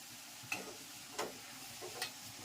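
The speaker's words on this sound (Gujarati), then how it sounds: "અને સરસ મજાનો વઘાર થઈ ગયો છે." Spices such as chilli, turmeric and coriander-cumin sizzle quietly in hot oil for a tempering on patra, a soft steady hiss broken by three or four sharp crackles and pops.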